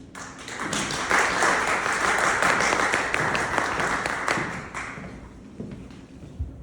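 Audience applause welcoming a speaker at a talk on Christian nationalism, a steady wash of clapping from a hall of people that swells, holds for several seconds, then thins out with a few scattered claps and a thump.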